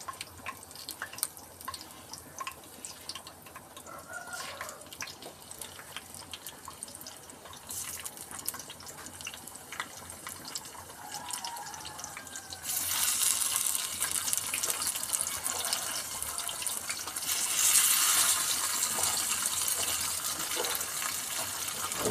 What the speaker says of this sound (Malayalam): ഇതിലേക്ക് ഞാനീ മസാല തിരുമ്പി വെച്ച മീൻ ഇടാൻ പോവുകയാണ്